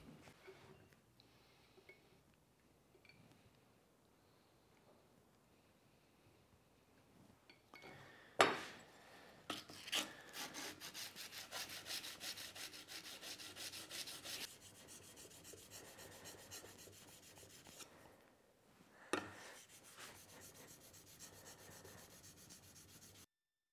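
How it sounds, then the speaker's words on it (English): A hand plane blade, a Quangsheng/Woodriver, is rubbed back and forth on a sharpening surface to flatten it and hone a new edge, giving quiet, steady rasping strokes with a few sharper knocks. "So I'll get on and flatten this now and put a new edge on it"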